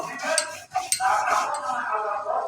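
Ground coconut is added to kolmi greens in a pan, bringing close metallic clinks and scraping of a spoon against cookware over a continuous sizzle.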